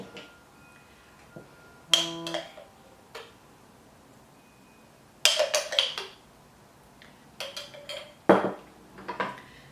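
Chickpea pasta with chickpeas and mayo being tossed in a bowl by hand, giving scattered bursts of utensil clinks and scrapes against the dish, separated by quiet pauses, close and fairly loud, with no talking.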